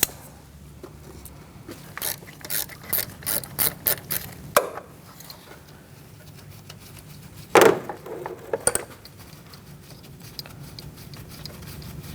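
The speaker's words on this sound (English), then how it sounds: "Now we're going to use a 10mm socket and remove this bolt." Ratchet with a 10mm socket working a bolt on an ignition coil of a 2013-2019 Cadillac ATS 2.0L L4, a run of quick clicking strokes followed later by a sharp metallic clunk, close and alone.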